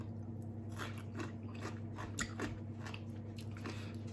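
Crunchy pickled Turkish rocket greens (Bunias orientalis) being bitten and chewed up close, a run of crisp crunches and wet squishes repeating steadily over a low constant background hum.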